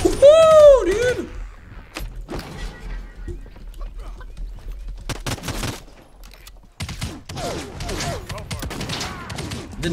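Game gunfire from players shooting in the battle royale Realm Royale, several sharp bursts through the clip amid busy in-game effects and a brief tonal chirp near the start, with some voice activity mixed in.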